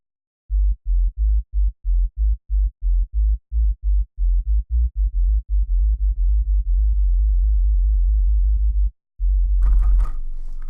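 A sub bass sine tone from the Heavy Korat synth, played with no click at the note starts: a rapid run of short, loud, deep pulses that merges into one sustained low note, then a brief gap and a burst of noisy hiss.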